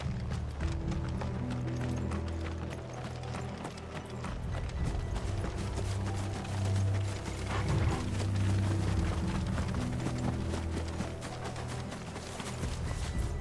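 Horse hooves clip-clop steadily in Final Fantasy XVI, a continuous rhythmic clatter mixed with low mechanical in-game ambience at moderate volume, with no talk.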